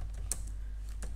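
Quick keystrokes on a computer keyboard while writing in Microsoft Word, a few crisp clicks spaced irregularly over a faint steady hum, close and quiet, with no speech.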